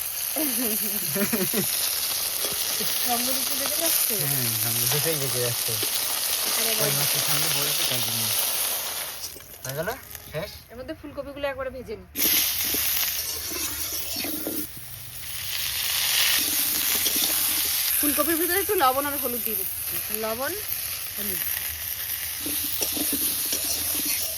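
Tilapia fish fresh from a home pond fry in oil, a steady broad hiss running throughout under ongoing talk, dipping briefly midway before the sizzle returns at full strength.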